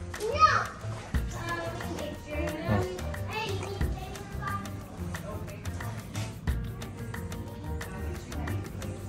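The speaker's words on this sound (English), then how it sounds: "You hear the kids screaming in the background." Children shouting and playing in the background of a Seville, Spain holiday apartment, a busy, continuous wash of young voices with scattered louder cries and occasional taps, heard indoors at a moderate distance.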